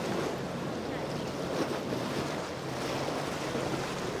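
A steady boat cruises over open ocean, its hull hissing through water and waves under constant wind buffeting the microphone, a broad, even wash of noise with no bumps or pauses.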